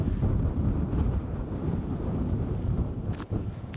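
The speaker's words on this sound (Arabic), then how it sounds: "وغالباً ما تشتد الرياح هنا" Strong wind buffeting at the summit of Irazú volcano in Costa Rica, a steady low roaring rush that stays loud and continuous with no voices.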